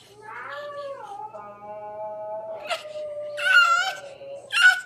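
A cat yowls in a long, drawn-out wavering meow, followed by a couple of higher, brighter cries near the end, close to the listener.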